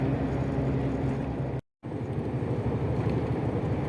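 A diesel car cruises on a highway at about 80 on cruise control, a steady loud road and engine roar from inside the cabin, cut by a brief moment of silence partway through.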